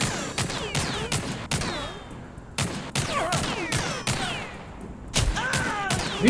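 Rapid bursts of video game gunfire in TimeSplitters Rewind, sharp repeated shots in clustered volleys with brief gaps, loud and close, with ricocheting echoes trailing each burst.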